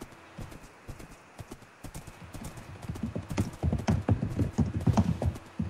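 Horse hooves clip-clop in a video game, a rapid, uneven patter of hoofbeats that grows louder and busier as the horse moves, with no talking over it.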